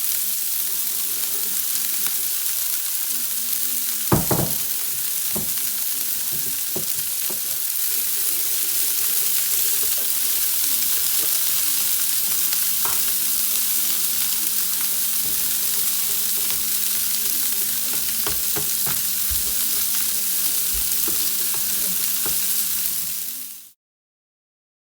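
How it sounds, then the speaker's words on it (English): Vegetables sauté in a large pan, a steady close sizzle running throughout with occasional clicks and stirring knocks, then cutting off abruptly at the end. "Start sauteing the vegetables."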